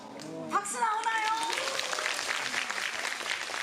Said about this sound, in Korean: 아, 박수 나오나요?